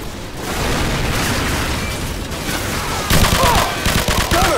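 Tank cannon and gunfire in the Call of Duty 4 mission War Pig, a dense continuous barrage of loud blasts and crackling shots that intensifies toward the end, with battlefield din throughout.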